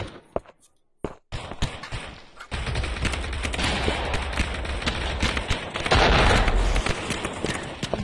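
Rapid gunfire crackles through a match of the Aim XR VR shooter, with dense bursts of shots and booms, near and loud after a brief sparse opening, going on steadily without voices.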